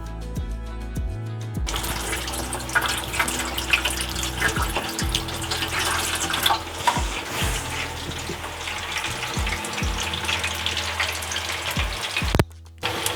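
Pieces of Gondhoraj chicken fry in hot oil over a low flame with a dense, steady, rushing hiss, broken by a few low thumps and a brief drop near the end.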